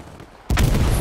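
A bomber strike destroying a Sherman tank in the video game Hell Let Loose, set in snow: after a quiet moment, a sudden loud boom erupts and rolls on as a heavy rumbling blast, close and without talk.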